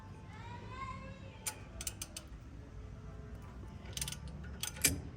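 Wrench ratcheting and clicking against a bolt during a brake job on a 2015 Toyota Tundra, with a few sharp metallic ticks and creaks over a low, steady background hum and faint talk early on.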